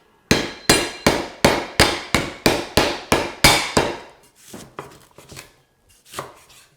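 An ingredient for an Indonesian chicken curry is smacked down hard about a dozen times in a quick even rhythm, sharp close thuds on a board, followed by a few softer scattered knocks.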